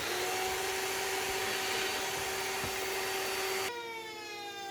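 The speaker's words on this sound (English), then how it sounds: "pre-drilling some holes for the mounting screws" A power drill pre-drills holes for mounting screws in form ply, a steady high motor whine running close and loud for several seconds before the pitch drops as the bit spins down.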